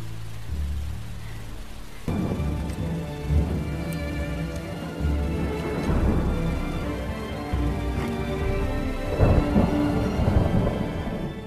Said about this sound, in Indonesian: Deras hujan disertai petir menghiasi suasana gelap di malam itu